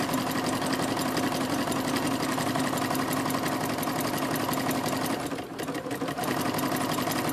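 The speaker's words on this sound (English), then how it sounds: "I'm sewing some squirrels." A sewing machine runs steadily as it stitches fabric squirrels, a dense continuous whir heard up close for the whole stretch, with a brief dip near the end.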